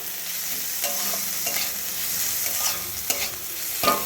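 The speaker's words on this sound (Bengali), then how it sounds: "বিনস আর লঙ্কা কুচি সমস্ত কিছুই একসঙ্গে দিয়ে দিলাম দিয়ে খুব ভালো করে পেঁয়াজ আর আলুর সঙ্গে মিশিয়ে ভেজে নেব" Beans, chopped chilli, onion and potato stir-fried together in a pan for semolina upma, giving a steady close sizzle with scraping stirs and a few sharp spatula clinks, no voices.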